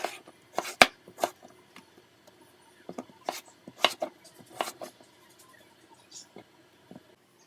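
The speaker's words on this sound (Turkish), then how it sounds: "şimdi Biberimi de arkadaşlar şöyle uzun uzun gene tekrardan kesiyorum" Knife cutting pepper into long, coarse strips for an oven chicken and vegetable dish, a series of soft, close chopping taps on a board, irregular and spaced apart, fairly quiet.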